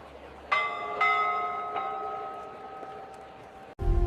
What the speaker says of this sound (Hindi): घंटी बजती है, सभी छात्र मैदान में इकट्ठा होते हैं।